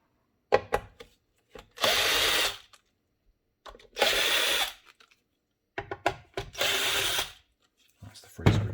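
Power screwdriver bursts on a Technics SL-1200MK2 turntable, three sustained whirring runs of about a second each, close and loud, separated by brief clicks and handling knocks as screws are backed out.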